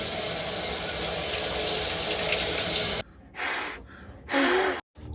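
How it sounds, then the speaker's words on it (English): A running tap gushes steadily as a camera battery is rinsed under it, then the flow breaks into short bursts and brief pauses as the stream is interrupted, heard close and loud. "gonna rinse this off. I'll rinse the battery off too."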